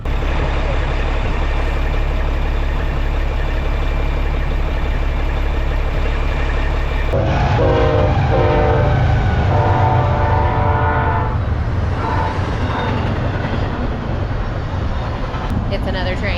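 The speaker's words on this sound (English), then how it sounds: "It's another train." A loud train rumbles close by, its horn blaring in sustained tones over the heavy rolling roar, with a voice briefly audible.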